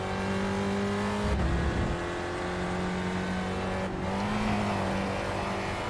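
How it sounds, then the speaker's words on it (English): A Spec Racer Ford race car in iRacing at Spa-Francorchamps droning steadily at high revs, with two brief bursts of tire scrabble as it rides over a curb, loud and continuous with no talk. "Kinda got a bit too much of the curb there. Spun the tires a little bit."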